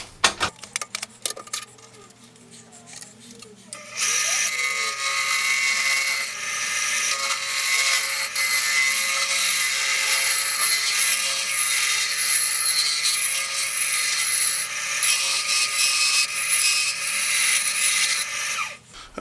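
A wooden blank spins on a lathe as it is roughed into round for a back scratcher handle, with steady loud hissing cutting noise after a few scattered clicks and taps at the start.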